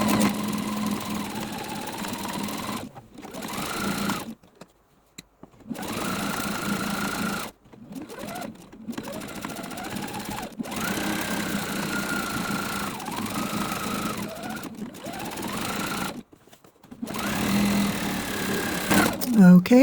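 Sewing machine zigzag stitching along a quilted pillow edge for a faux chenille finish, running in several bursts broken by short pauses, fairly quiet, with a voice speaking between and over the runs.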